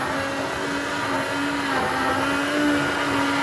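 A blender purees butternut squash soup until smooth, a steady, loud motor whir holding one even pitch throughout with no talking over it.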